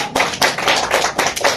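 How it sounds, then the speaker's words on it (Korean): A church congregation claps together during a service, producing a run of sharp, close hand claps in a fairly regular rhythm, roughly two to four per second, with no voices over them. "박수 한번 쳐주세요"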